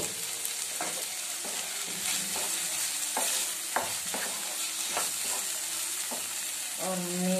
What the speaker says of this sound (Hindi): इसके 2 मिनट में इसको भी फ्राई कर लेंगे।